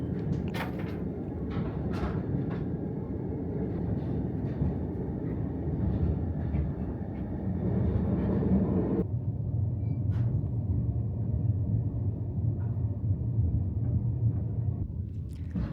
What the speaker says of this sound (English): the train finally arrives at Platform 1 of Ulaanbaatar Station